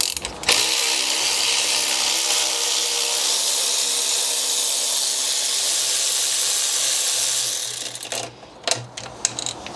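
A tool with an E8 socket works a stuck bolt on a car engine, giving a loud, continuous buzzing whir for several seconds before it stops, followed by a few sharp clicks and knocks.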